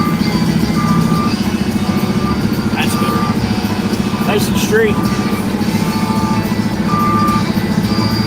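A reversing truck gives out evenly spaced electronic beeps over a steady engine hum, with someone talking nearby.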